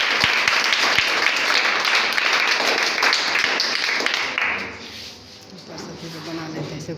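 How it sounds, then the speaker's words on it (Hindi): An audience claps and applauds loudly to welcome a guest at an academy gathering, dense clapping that fades out near the end, with a voice speaking over it. "सर का स्वागत करते हैं तालियों के साथ।"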